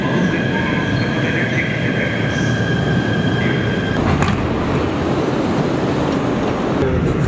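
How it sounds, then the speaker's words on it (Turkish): Metro train arriving at a station, a loud steady rumble of wheels on rails with high squealing tones and a clunk near the middle, heard up close. "Hah, bak geldi bizim servis tren."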